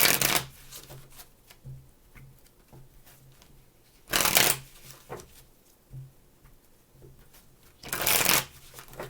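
Three bursts of tarot cards being shuffled, each a second or so of crisp riffling, separated by quiet gaps with soft handling sounds.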